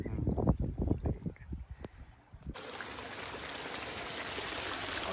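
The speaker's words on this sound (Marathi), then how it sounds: "तर बघा वरून झरा आला आहे तर झऱ्याचं पाणी आहे." Close, lapping water from a spring-fed stream splashes in uneven bursts, then gives way to a steady, bright rush of flowing water that continues alone.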